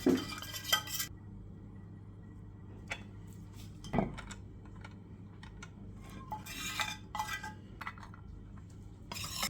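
A spoon stirs dill into a spiced oyster sauce, with sparse clinks and light taps of metal against a dish over a quiet low hum, a louder clatter at the start and near four seconds.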